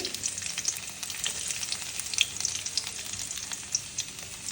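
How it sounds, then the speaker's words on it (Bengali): Chopped garlic sizzling steadily in hot mustard oil as a tempering for khichuri, a close, continuous crackling fry with small pops throughout and no talking. "সরিষার তেলের ভিতরে হচ্ছে রসুন কুচি দিয়ে দিচ্ছি"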